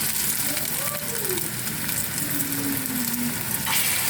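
Sweet potato cutlets shallow-fry in coconut oil in a pan, giving off a continuous close hiss and crackle at moderate volume while a voice murmurs faintly in the background.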